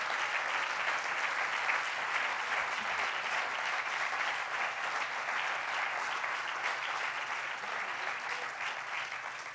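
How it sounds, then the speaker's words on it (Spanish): Rally crowd in Barakaldo gives a big round of applause for the local comrades, a thick continuous roar of clapping filling the hall, even and sustained for several seconds. "me gustaría que lo primero hiciéramos es dar un gran aplauso a todos los compañeros y compañeras de Baracaldo"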